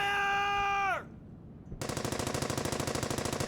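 Rapid gunfire from the World War II shooter Brothers in Arms: Hell's Highway bursts in loud and close after a falling electronic tone and a short lull, then keeps a steady, dense rattle to the end.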